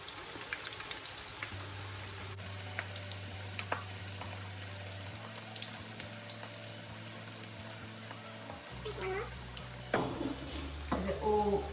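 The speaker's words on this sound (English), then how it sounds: "So they're all sizzling up in there." Greek keftedes meatballs fry in a pan on an electric stove, a steady soft crackling sizzle with scattered pops, growing busier near the end.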